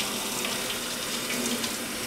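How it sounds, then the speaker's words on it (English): Tap water runs steadily into a sink during handwashing in a kitchen, a continuous close splashing hiss with no talking. "I'm going to wash my hands one more time."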